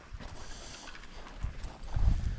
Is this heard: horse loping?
yes